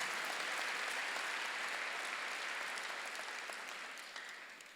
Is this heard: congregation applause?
yes